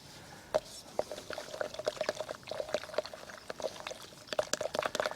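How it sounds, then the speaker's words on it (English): A spoon repeatedly clinks against a jug while stirring a water mixture for garden use, giving sharp regular taps over faint sloshing liquid. "And give it a very good stir."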